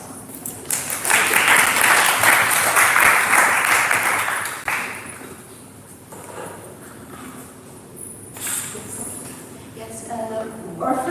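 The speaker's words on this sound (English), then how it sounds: "So let's give them a round of applause." An audience at an academic conference on music study in Asia claps, a loud burst of applause that swells, holds for a few seconds, then fades into scattered claps and room noise.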